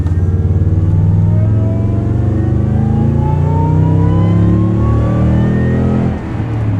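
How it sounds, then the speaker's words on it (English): A supercharged second-generation Toyota Tundra pickup accelerates hard, its engine note climbing steadily in pitch with loud, close, continuous revving before easing off near the end, with no talking. "or you could put the pedal down"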